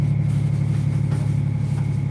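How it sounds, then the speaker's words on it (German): A stranded truck's engine idles at a recovery site on the world's largest salt flat, a steady low rumble with a constant hum, close and unchanging throughout. "Warum läuft der Motor?"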